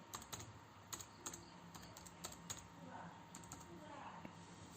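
An email is typed on a computer keyboard in short bursts of crisp, close key clicks, the keystrokes spaced unevenly, with quiet talk and room noise underneath.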